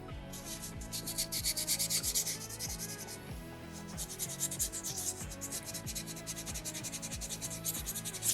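Sandpaper wedged into a gap and rubbed back and forth over a small soapstone bear carving, steady rhythmic scratchy strokes, close and fairly quiet, with no voices.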